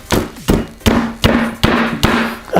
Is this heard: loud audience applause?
no